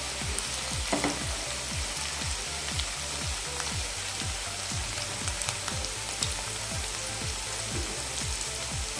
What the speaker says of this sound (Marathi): हिरवी मिरची जी वाटून घेतली आहे ती घालूया तीसुद्धा थोडीशी परतून घेऊया